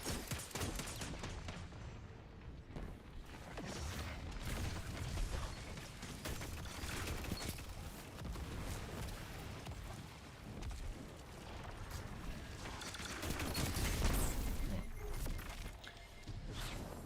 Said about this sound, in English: every time I use a waveframe grenade launcher, I forget just how much I like them